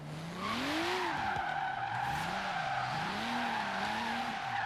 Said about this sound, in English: now wants to initiate a drift just with throttle